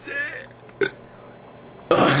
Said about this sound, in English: You train a lot, you're burping.